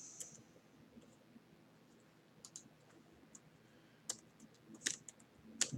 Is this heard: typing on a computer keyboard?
yes